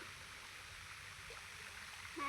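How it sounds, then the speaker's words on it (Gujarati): Rainwater still running after a heavy downpour in a flooded farm field, a steady, quiet trickling flow heard alone at a distance. "તો હજી જો પાણી ચાલુ છે હવે."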